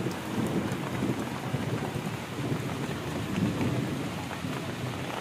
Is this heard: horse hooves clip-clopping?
no